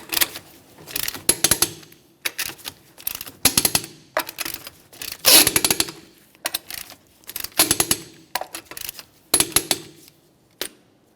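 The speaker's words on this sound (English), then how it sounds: "we'll be torquing these in a crisscross manner to that 100 foot-pounds" A clicking ratchet-style wrench torques the wheel lug nuts on a 2007-2017 Jeep Patriot to 100 foot-pounds in a crisscross pattern, close and sharp bursts of rapid clicks separated by short pauses, roughly a dozen rounds.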